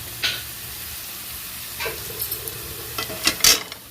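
Green chillies, crushed ginger, garlic and cumin frying in a pan, a soft steady sizzle broken by scattered stirring clinks and scrapes, close up with no talking.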